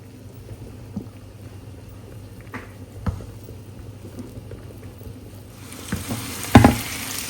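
Egg being fried and stirred in a pan: a soft, low sizzle with occasional scrapes and taps from stirring, growing busier and louder near the end.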